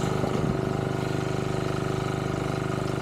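Irrigation pump engine running on a calamansi farm, giving a steady, mid-pitched mechanical drone with a fast, even pulse throughout and no other sounds over it.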